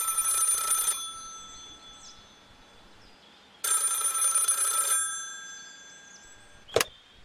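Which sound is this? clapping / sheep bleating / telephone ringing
telephone ringing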